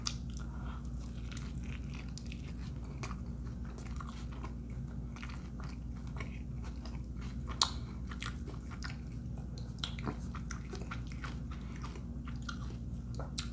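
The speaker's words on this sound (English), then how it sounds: "I'm gonna take one more bite, get some of these beans." Biting into and chewing a fresh taco with beans, cheese and grilled chicken from a food truck, with crisp crunches and soft mastication close up, steady over low background hum.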